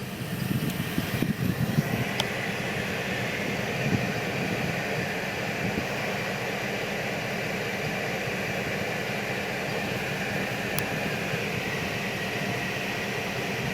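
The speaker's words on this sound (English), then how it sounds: "AC's blowing ice cold." Air conditioning blowing inside a 1963 Ford Falcon: a steady, even broadband whoosh of fan and airflow that holds constant throughout, with no talk.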